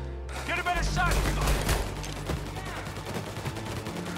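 Gunfire rattles through a shootout in Mafia: Definitive Edition, loud bursts and single shots crowding the first two seconds, then sparser cracks continuing under game sound.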